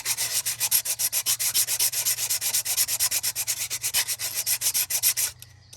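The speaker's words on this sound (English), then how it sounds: "that's where the sandpaper comes in. All right, and this nice flat surface, if I'm moving it around" Sandpaper rubbed back and forth over a thermostat housing on a 1996–2007 Ford Taurus / Mercury Sable to flatten its surface; about thirty quick, even rasping strokes, close and loud, stopping just before the end with no talk.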